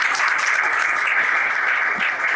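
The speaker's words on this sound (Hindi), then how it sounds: "आइए उसके खूबसूरत जिंदा कलाम के लिए और उस बेटी के लिए जो कलाम देंगी उसके लिए जोरदार तालियां बजाएं।" Loud, dense clapping from a congregation at a prayer and worship gathering, a steady wash of applause without pause.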